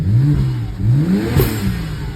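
A BMW 335i with the N54 engine, MHD tuned with open exhaust valves, revs in several quick rising and falling blips, loud and close by.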